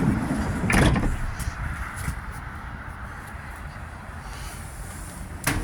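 The side loading door of a Ford Transit Custom short-wheelbase high-roof van slides with a loud rumbling roll near the start, then a quieter stretch and a final clunk, close by with no talking.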